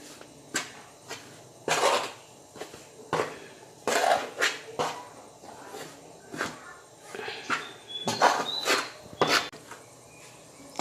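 A cup or spoon stirs a hot methi mixture for Konkani mutki in a pot, giving irregular scraping knocks and clatters close up. A voice is heard briefly now and then.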